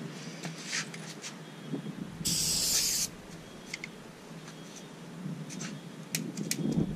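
A sharp hiss of aerosol starting fluid, heptane and diethyl ether, bursts for under a second amid quiet rustling and scattered clicks, close to the listener.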